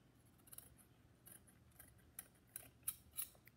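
Scissors snip through folded paper while making paper flowers, a series of faint, close cuts in an uneven rhythm of about eight crisp snips, alone with no voices.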